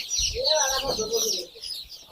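A seven-day-old chick cheeps in high, close-up peeps while held for Ranikhet vaccine eye drops, with handling sounds and a voice murmuring in the background.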